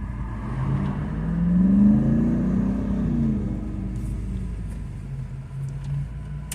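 A restored Citroen DS 21 drives along a road on a long test drive, its mid-pitched engine rising and falling through a drawn-out rev and steady cruising rumble, heard from inside and close up.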